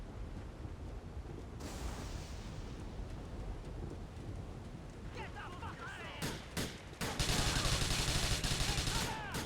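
Gunfire crackles in Grand Theft Auto IV amid a dense, noisy game backdrop, with clustered shots and bursts building into sustained heavy firing toward the end; a voice talks faintly underneath.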